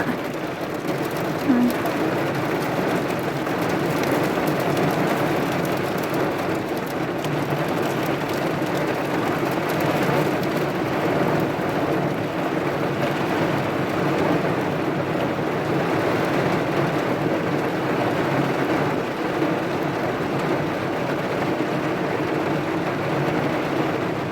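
Heavy rain and strong wind on a dark morning, heard as a steady, dense wash of broadband noise that holds evenly for the whole stretch without a break.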